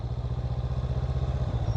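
A motorcycle engine in Thailand runs close by with a fast, steady pulsing throb and faint mechanical clatter, rising slightly in revs over a brief stretch with no talk.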